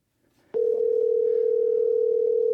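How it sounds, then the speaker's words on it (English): A steady, continuous telephone tone on a call waiting for someone to pick up, starting abruptly and holding loud and unbroken for about two seconds with no voices. "It's still ringing."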